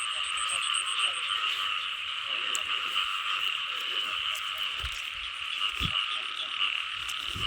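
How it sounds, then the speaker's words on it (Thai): Large frogs croak loudly during a night frog hunt. Their pulsing calls form a steady, unbroken chorus close by, with a few soft thumps and rustles underneath and no speech. "กบพี่น้องตัวใหญ่"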